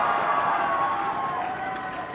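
A large audience at a Team Solo Mid esports match cheers in a sustained, dense roar, steady and loud throughout with a slight fade toward the end.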